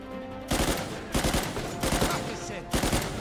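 Automatic gun in Uncharted 4 sprays fire in four rapid, loud bursts of rattling shots separated by short pauses, close and punchy.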